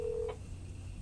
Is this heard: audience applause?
no